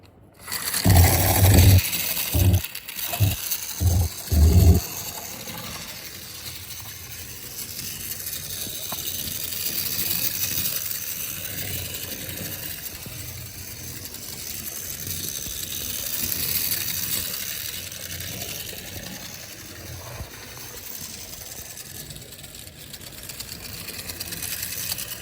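A Lincoln International HO clockwork toy train runs on black plastic Lima track, opening with a few loud clattering knocks, then a steady whirring, rattling mechanism that continues close and even throughout.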